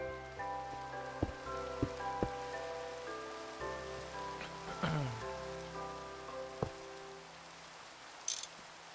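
Rain falling in the Minecraft Nomifactory modpack, a soft, steady patter under a sustained droning game tone, with a few sharp clicks and a brief swooping sound along the way.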